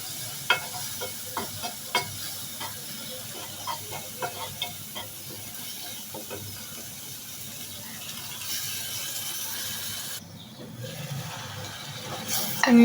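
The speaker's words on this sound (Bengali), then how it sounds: "এখন আমি নেড়ে ছেড়ে পানি দিয়ে দিব।" Prawns with turmeric, salt and chili powder frying in a pan as a spatula stirs them, sharp scraping clicks at irregular intervals over a low steady sizzle, the scraping stopping near the end.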